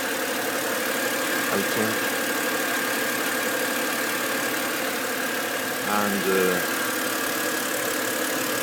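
A BMW E93 engine idles steadily with the hood open, a continuous close mechanical drone and hum throughout, with someone speaking briefly over it.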